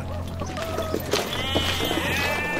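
Several village goats bleat in short wavering cries over a dense, steady background of outdoor noise and hum.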